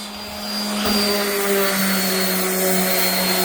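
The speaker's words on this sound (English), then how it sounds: "I'm using kind of an older 220 piece of sandpaper that's been used, because I don't want to leave any scratch marks with this palm sander on these panels." A palm sander runs steadily while sanding panels with a worn, previously used sheet of 220-grit sandpaper, giving a continuous close whirring drone that grows slightly louder and holds without pause.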